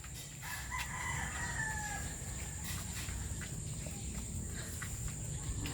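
A rooster crows a couple of times at middle distance over a steady outdoor background hum, with faint farmyard noise throughout.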